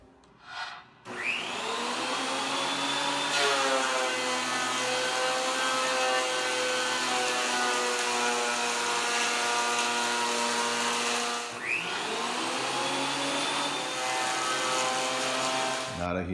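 A Ridgid TP1300 thickness planer runs loud and steady for about fifteen seconds, with a whining harmonic drone that drops as it spools down briefly near the middle and then surges back up for a second pass.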